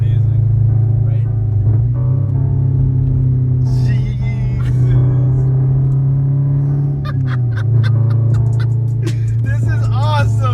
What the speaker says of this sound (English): Dude, your downshifts sound amazing.